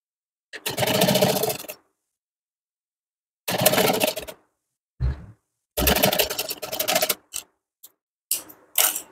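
A sewing machine stitches lace onto a lehenga. It runs in several close, rapid bursts of stitching separated by pauses, ending in a few quick short runs.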